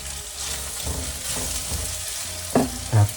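Egg poured into a hot pan for Thai basil fried rice, a steady loud sizzle throughout with a couple of sharper bursts near the end as it hits the oil and gets stirred; no talking.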